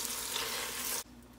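Ground beef with salt and pepper sizzles and fries in a pot for a keto cheeseburger soup, a steady close hiss that cuts off abruptly near the end, leaving quiet kitchen background.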